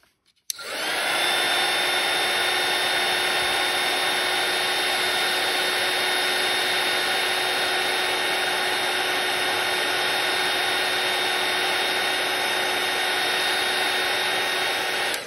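A heat tool melting embossing powder on a stamped card blows a loud, steady, close whooshing hum with a fixed tonal whine, starting abruptly and running unbroken for about fifteen seconds.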